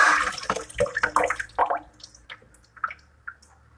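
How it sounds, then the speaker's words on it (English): Running water splashes and drips as food is rinsed under a kitchen tap, with wet squishing and handling noises that are loud at first, then thin out into scattered drips and trickles. "I'm gonna rinse this off real quick"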